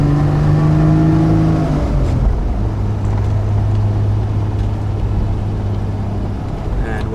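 A 1973 Triumph TR6 with original-style exhaust, driven in third gear: a loud, steady engine drone heard from inside the car, with a brief shift in pitch early before it settles into a constant tone.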